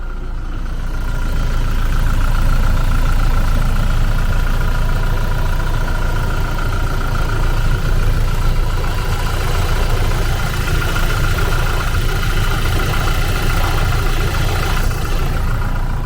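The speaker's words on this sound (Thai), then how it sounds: "ฟังเสียง เครื่องยนต์กัน" The 2.4-litre diesel engine of a 2018 Toyota Hilux Revo pickup idles steadily close by, a constant low rumble with an even mechanical hum throughout and no talking.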